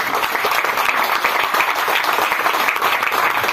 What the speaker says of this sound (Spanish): Y si quiere aplaudir, aplauda ahora.